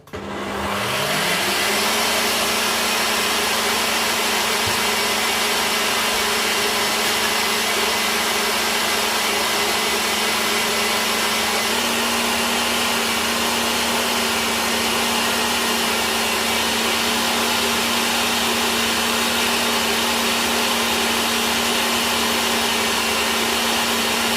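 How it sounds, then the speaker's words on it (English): An electric hand whisk runs at its highest speed beating two eggs, a loud steady motor whir that starts abruptly and holds unbroken for over twenty seconds with no talking. "I'm gonna whisk this on the highest speed."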